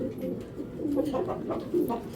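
Racing pigeons coo softly and repeatedly in a low, throaty murmur, nearby, with faint background noise.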